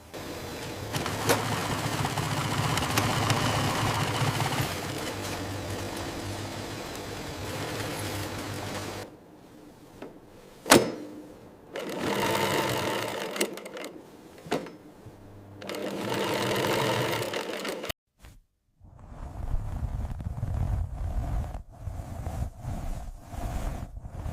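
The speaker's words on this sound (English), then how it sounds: "This industrial cutter is the heart of our zero waste system. It takes materials that would otherwise be discarded and shreds them down, ready for reuse." An industrial cutter shreds discarded factory materials for reuse, giving a steady, loud mechanical whirring that runs continuously, then stops and restarts in several bursts separated by brief quiet gaps and sharp knocks.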